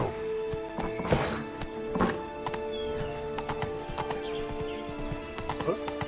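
Hooves of Roach, a horse in The Witcher 3 video game, clopping in an uneven trot, with a few sharper thuds and faint whinny-like tones over a game soundscape, fairly quiet.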